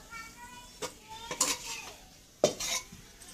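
A finished prawn and bitter gourd curry is tipped out of a pan. A few quiet metal clinks and scrapes of spoon against cookware sound in two short bursts with calm gaps between them.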